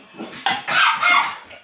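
Homestead dogs bark in a few loud, close bursts over roughly a second and a half, sharp yaps rising and falling with no talk.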